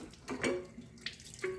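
Cold water runs from a kitchen tap into a pot, a steady close splashing stream with faint clinks of the pot.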